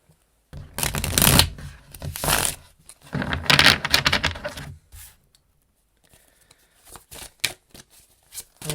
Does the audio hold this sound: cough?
no